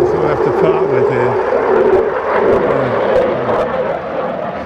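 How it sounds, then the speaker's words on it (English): Jet aircraft passing overhead near a parked Ford Wildtrak pickup, a loud, steady broadband roar that stays close and sustained throughout, with a person speaking underneath it. "Here comes a jet here. Can you see that coming over? It's being noisy as hell."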